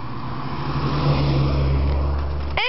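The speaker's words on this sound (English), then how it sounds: "Oh, there's a car coming." A car drives past on a street where kids ride boards, loud and steady as it goes by close, then cut off abruptly at the end.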